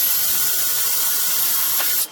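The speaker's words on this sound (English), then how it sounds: "I'm going to go ahead and pre-drill the top hole for the hinges" A power drill bores a pilot hole for a hinge on a Ryobi storage cabinet, giving a steady, close, even whir for about two seconds before it cuts off abruptly.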